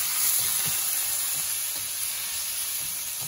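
Vegetables with ketchup, carrots, potatoes, onions and garlic sizzle and fry in a pan outdoors in a garden in the Philippines. The hiss is steady and close, with light crackles and no talking.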